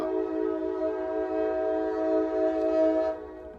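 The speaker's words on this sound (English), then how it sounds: "A train just went by, and you could probably barely hear me." A train going past, dominated by a sustained, loud, steady horn tone with rich harmonics held for about three seconds before cutting off, rumbling faintly underneath, with no talk.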